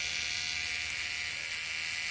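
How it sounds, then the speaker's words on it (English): An electric toothbrush buzzes steadily and close up as it is held against tomato flowers in a polytunnel to shake loose pollen, a continuous bright whine with no pauses. "every day I grab this toothbrush"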